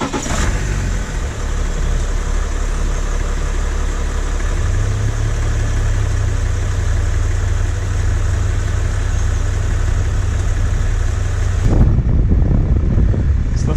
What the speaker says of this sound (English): I had to put the engine on, the battery was complaining